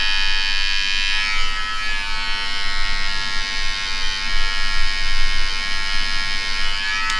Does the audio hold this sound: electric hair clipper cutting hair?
yes